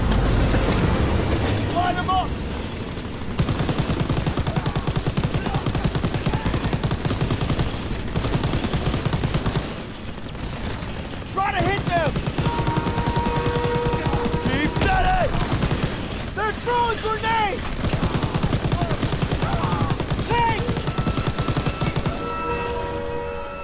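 Sustained gunfire rattles aboard a train in the World War II shooter Call of Duty WWII, loud bursts layered over rumbling rail noise, with shouted voices and intermittent whistling tones.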